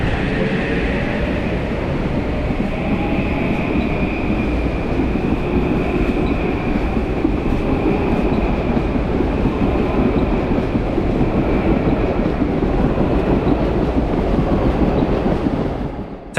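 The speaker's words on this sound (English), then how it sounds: "Metro North train 6549 is seen departing from the westbound end of the Track 3 platform at the South Norwalk" A Metro-North commuter train pulls away westbound from the Track 3 platform at South Norwalk station, a steady, loud rumble and roll of wheels and cars passing close by throughout with a faint high whine above.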